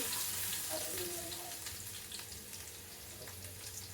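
Crushed garlic frying in oil in a pan for a Rayalaseema-style ridge gourd and moong dal dish, a soft steady sizzle with faint bubbling crackle, quiet and continuous throughout.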